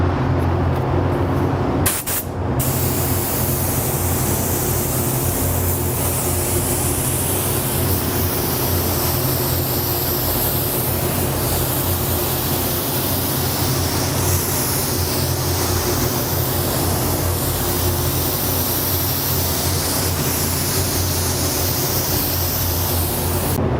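A spray gun applies a first coat of Quicksilver surfacer in a paint booth, giving a loud, steady broadband hiss of atomized spray that runs nearly unbroken for the whole stretch, with a short pause near the start.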